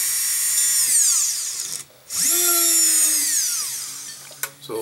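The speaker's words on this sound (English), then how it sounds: "so I'm going to use .009 drill bit." A small high-speed flex shaft drill with a .009 bit whines loudly enlarging a hole in jewelry earring metal, spinning down and back up with a brief pause, its pitch sliding as it bites into material.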